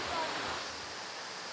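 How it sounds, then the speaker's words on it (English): Crabtree Falls, a big waterfall beside the Blue Ridge Parkway, gives off a steady broadband hiss of falling water, faint and even, with no voices. "it is really cool, really big waterfall"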